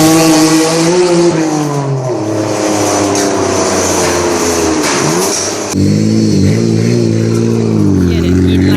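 A Nissan 180SX's RB26 inline-six engine revs hard and loud nearby, its pitch sweeping up and down, then settling into a rough, throbbing idle.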